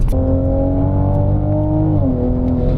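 A modern sports car engine holds a steady, loud drone under throttle from inside the cabin, with its pitch sagging slightly near the end as the load changes.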